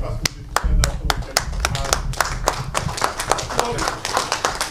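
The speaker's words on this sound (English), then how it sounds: "je vais vous demander de vous lever pour applaudir ces grands humanistes qui ont sauvé le peuple congolais" A conference audience claps in sharp, uneven bursts, with clear individual claps rather than a dense wave of applause. Voices talk underneath the clapping.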